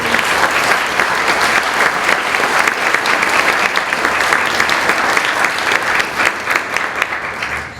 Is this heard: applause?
yes